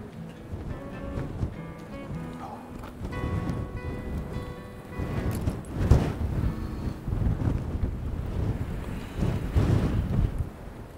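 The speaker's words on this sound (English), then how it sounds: "But it's getting windy." Gusty wind buffets the microphone in rising and falling rushes on a mobility scooter at a Thames-side nature park, with a faint tonal hum and occasional knocks underneath.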